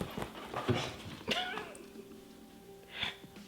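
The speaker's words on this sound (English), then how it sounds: "Let me get these dogs." Dogs move around inside a house, one a black lab mix, with scattered paw scuffs, a sharp snort or sneeze and faint whimpering close by, while a person speaks briefly.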